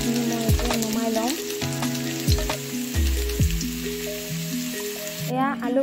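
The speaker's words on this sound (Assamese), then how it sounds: "প্ৰথমতে মই আলুখিনি ভালদৰে ভাজি ল'ম" Potato pieces frying in hot oil for a chicken curry, a continuous close sizzle and crackle with tonal background sounds running over it.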